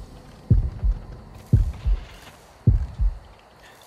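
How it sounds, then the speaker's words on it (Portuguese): Heartbeat effect from the mobile horror game Horrorfield, a steady thumping lub-dub pulse of deep, loud double beats repeating about once a second over a low ambient hum. "conforme o coração, do batimento do coração, vocês conseguem ver se o psicopata está perto ou longe"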